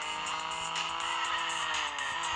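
Car drifting in the video game Drift Max, with a continuous engine whine and sustained tire squeal that persists loudly throughout, shifting pitch as the car slides.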